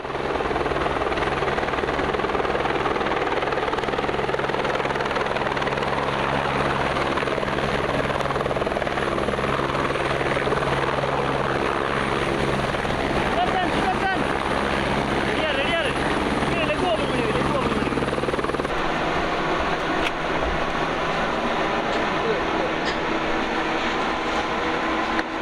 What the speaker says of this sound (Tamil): ஹெலிகாப்டர் 1 மணி நேரம் 15 நிமிடத்தில் சென்னை அரும்பாக்கத்தில் பத்திரமாக தரையிறங்கியது